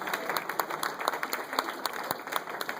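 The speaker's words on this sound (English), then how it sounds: "Give him a round of applause" An audience on Staten Island applauds a candidate for New York governor, with a few seconds of brisk, uneven clapping and individual sharp claps standing out, moderately close.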